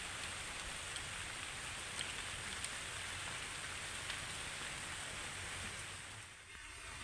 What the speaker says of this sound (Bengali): আজকের ওয়েদারটা তো এমনি থেকেই অন্যরকম, মানে বৃষ্টি পড়ছে।